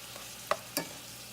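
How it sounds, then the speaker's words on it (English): A spoon stirring tomato paste and spices cooking in a pan, heard as two brief, close scraping strokes over a faint background. "Boom, now we've got that stuff added, so I will stir it a little bit."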